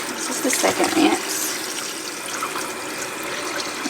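Water runs steadily from a tap while poke salat greens are rinsed a second time, a close, continuous splashing rush with some sloshing of leaves in the first second.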